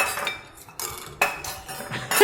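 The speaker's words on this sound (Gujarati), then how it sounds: "મમ્મી ચમચા કેટલા બધા તું લાવી?" Metal spoons clink against dishes and each other in several short, bright bursts with quieter gaps between, close by in a home kitchen.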